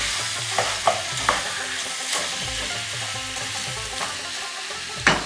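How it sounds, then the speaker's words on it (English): Lamb with turmeric being stirred in a pot for a desi lamb stew, a steady sizzle under several sharp scraping clinks of the spoon spaced through the stir, close and fairly loud, with no talking. "We'll mix it little bit."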